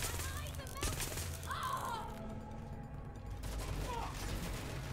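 Gunfire rattles through a chaotic firefight in the video game Watch Dogs: Legion, with dense bursts over a steady background, while a voice talks over it.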